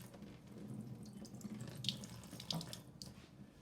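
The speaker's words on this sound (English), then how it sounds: "we're running cold, just cold water over that" Cold water runs from a tap over a sheet of freshly marbled paper in a sink, a soft, continuous splashing with a few brighter spatters, faint and close by, with no voices.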